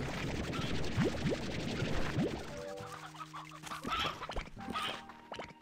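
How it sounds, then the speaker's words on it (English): Chickens cluck and squawk in the video game Slime Rancher 2, a busy overlapping flock close by, with a short series of sharp calls early on and more scattered clucking later alongside game tones. "Ah, the sounds of chickens screaming."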